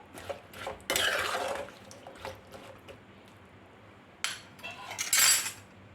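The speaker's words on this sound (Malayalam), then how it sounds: "ഉപ്പും കുറച്ച് വെള്ളവും കൂടെ ചേർത്ത് നമുക്ക് നന്നായിട്ടൊന്ന് വേവിച്ചെടുക്കാം ഒന്നിളകി കൊടുക്കാം" Breadfruit curry with green chillies, salt and a little water being stirred in a metal pot; scattered scrapes and clinks of a spoon against the pot in short bursts, close up, with quiet gaps between and no speech.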